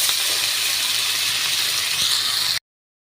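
Rohu fish frying in hot oil gives a steady, loud, close hiss and sizzle that holds evenly for a couple of seconds, then cuts off abruptly.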